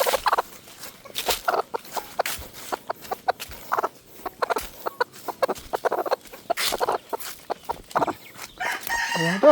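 Hens and a rooster clucking repeatedly on a farm where eggs are collected from nests, with busy overlapping bird calls close by and a crow near the end, no talk.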